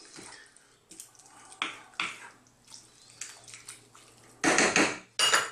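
Pastrami and peppers being mixed in a pot for tomato tagliatelle, with irregular clanks and scrapes of a utensil against the metal pot, several louder bursts toward the end, and a faint steady hum underneath.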